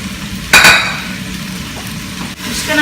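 Green beans and sweet potato hit a hot pan of curry base and start frying, a loud burst of sizzle and a clink of utensils that settles into a steady, softer crackle.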